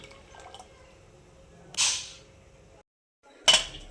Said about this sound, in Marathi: त्यात टाकते चिंचेचं पाणी